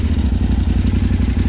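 A 2006 KTM 950 Adventure motorcycle engine idles right after a cold start with no choke, a loud, close, rapid lumpy thrumming with a steady uneven pulse throughout.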